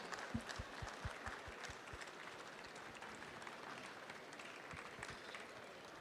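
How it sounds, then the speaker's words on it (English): Faint, distant applause rises from the crowd at the Comic Con India Awards as the Tinkle team takes the stage, with rhythmic low thumps early on beneath the steady clapping. "Huge round of applause, please."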